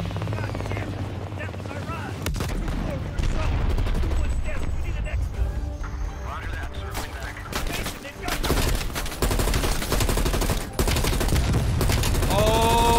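Rapid bursts of gunfire ring out in Call of Duty: Black Ops Cold War, loud repeated shots layered with explosions, helicopter-like rumble and game effects, with people talking over the action.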